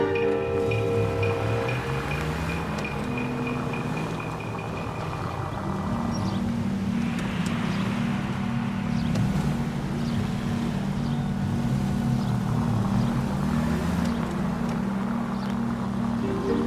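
A car driving in L.A. Noire gives a steady, loud engine drone that shifts in pitch as it goes, with a faint rush of wind and no voices.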